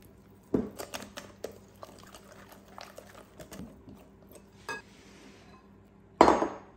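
Dry ingredients such as baking powder being mixed in a bowl, with several sharp utensil clinks and scrapes against the bowl at irregular intervals, quiet between strikes.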